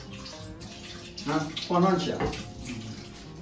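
Tap water gushes steadily into a freshly repaired washing machine from a newly fitted faucet, a close, continuous rush with people talking briefly over it.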